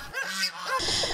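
Geese honk in quick, nasal calls, a few overlapping bursts close by with some farmyard background.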